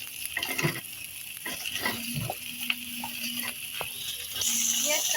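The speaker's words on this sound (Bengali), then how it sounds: "পেঁয়াজ কাঁচামরিচ সাথে একটু ভেজে নিব" Onion and green chilies fry in a pan, a steady sizzling hiss broken by scraping stirs and clicks of a utensil, with a low hum running underneath.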